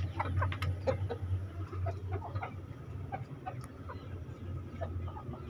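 A brown hen sitting on her eggs on a poultry farm gives soft, scattered clucks against a steady low hum, with other fowl faintly audible around her.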